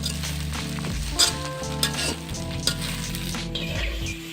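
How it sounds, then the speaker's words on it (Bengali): Jute leaves frying with onions in a pan, a steady loud sizzle with a few stirring scrapes and clinks over roughly four seconds, no voices. "পেঁয়াজ ভাজা হয়ে গেছে, এখন শাকগুলো দিয়ে দেবো।"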